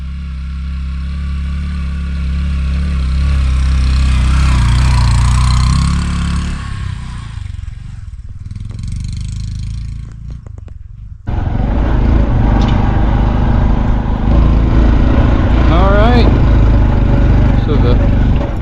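A 2023 Honda Trail 125 motorcycle, fitted with 13/42 gearing and Shinko 241 tires, runs on a trail with a steady low engine drone that dips and then surges louder, with a voice talking over parts of it.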